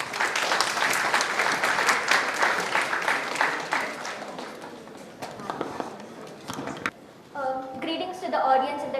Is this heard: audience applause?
yes